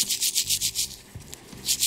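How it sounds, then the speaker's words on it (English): Brush scrubbing a clock wheel in cleaning solution, a quick run of wet rubbing strokes in a rhythmic back-and-forth pattern, close up, with a short pause in the middle. "Start scrubbing away"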